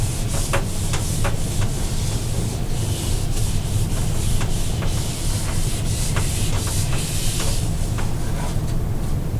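Eraser rubbed back and forth across paper during algebra homework, a steady stream of short scratchy strokes, close and continuous.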